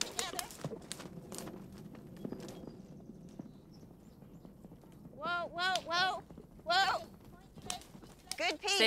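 Hooves of a vaulting horse clip-clop steadily on an arena surface in a riding school, a regular walking rhythm at moderate distance, while several people talk and call out over it.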